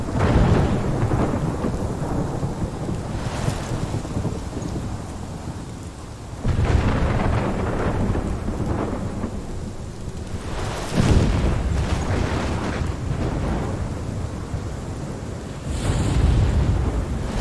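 Heavy thunderstorm in Life is Strange, with steady loud rain and wind broken by several deep rolling thunderclaps spaced every few seconds, no talking.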